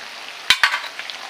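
Green chillies and 150 grams of ginger-garlic paste land in a hot pan for a country rooster poriyal, giving two sharp splattering bursts followed by a soft, brief sizzle.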